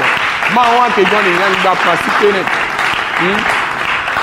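A church congregation applauds in steady, dense, loud clapping that fills the room. A preacher's amplified voice rings out over it.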